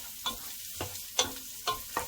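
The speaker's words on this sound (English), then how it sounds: "Okay, let's fry these onions. And let's add the bay leaves." Sliced onions and bay leaves frying in hot oil make a soft sizzle, broken by about five sharp knocks and scrapes from stirring in the pan.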